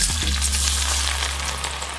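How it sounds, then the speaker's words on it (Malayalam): Garlic fries in hot oil with a loud, dense sizzle that stays steady and close throughout, over a low constant hum from the stove, with no talk. "വെളുത്തുള്ളിയും നമുക്ക് അതുപോലെ തന്നെ എണ്ണയ്ക്കകത്തിട്ടിട്ട് വറുത്തെടുക്കാം."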